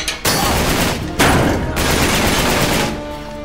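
Sustained automatic gunfire in Uncharted 3: Drake's Deception Remastered, loud and continuous rattling that pauses briefly and resumes in a fresh burst, with no voices.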